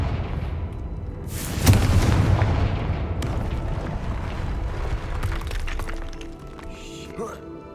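A Confringo spell blasts off in a video game, a sudden loud boom with a crackling burst that rolls into a dense, noisy rumble of battle sounds under a voice.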